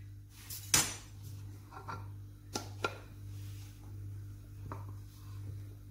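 A plate being picked up in a home kitchen to serve lava cake ice cream, giving a loud clink at first, then a few lighter clatters and taps of dishes and cutlery against a quiet background.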